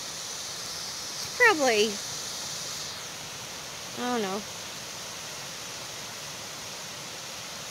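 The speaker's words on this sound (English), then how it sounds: "A big tall waterfall, but it's still a waterfall." A tall waterfall at a recreational park campground roars as a steady broadband rush throughout, with someone speaking briefly over it.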